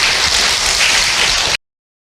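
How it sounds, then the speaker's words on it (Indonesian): Audience applause for Ibu Alia at a religious talk, a dense steady clatter of many hands clapping at close range for about a second and a half before cutting off abruptly. "tepuk tangan buat Ibu Alia"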